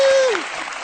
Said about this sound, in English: The clapping of the audience.